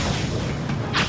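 A bomb blast destroys a cannon in the video game Zwei: The Ilvard Insurrection, a dense rumbling boom with a brief whooshing burst near the end, loud and continuous through the short moment.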